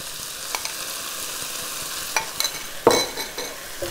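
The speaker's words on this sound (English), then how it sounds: "So you're going to hear a little bit of sizzle here." Chicken and green beans frying in a pan as dressing is added, giving a soft background sizzle that flares into a brief louder hiss with a few stirring scrapes.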